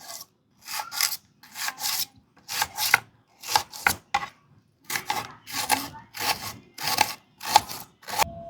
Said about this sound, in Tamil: வெங்காயம் பொடியாக கட் பண்ணிக்கலாம்.